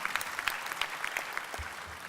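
Supporters at a political rally in the Cirque d'Hiver applaud, a brisk, steady patter of crowd clapping heard alone without speech.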